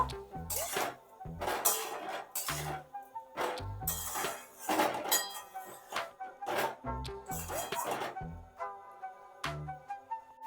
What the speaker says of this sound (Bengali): এটাকে আমি শাক আলু আর মশলাগুলো একসাথে সব মিশিয়ে নেব